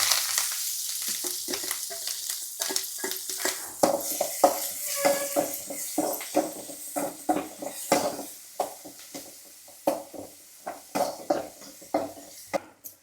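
Onions, green chilies, ginger and curry leaves fry in ghee in a pan for upma, with a soft sizzle under repeated rhythmic scrapes and clacks of a spatula stirring against the metal pan, close and clear.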